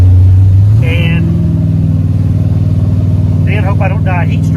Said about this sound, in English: We're going to drive FrankenNova to the track.